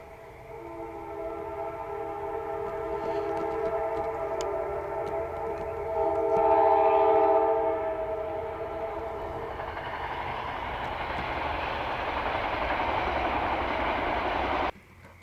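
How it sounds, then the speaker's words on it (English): A train rolls past a dairy farm, a steady loud rumble with tonal horn-like drones swelling around the middle, then broadband wheel noise until it cuts off. "And that lonely train."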